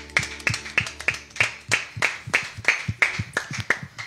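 A church congregation claps in a steady, even rhythm to acclaim the Lord, about three claps per second, close and crisp, with a low background hum and no talking over it.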